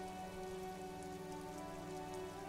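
Rain falling in the video game Disco Elysium, a steady dense patter with a faint tonal music bed underneath, quiet and unbroken.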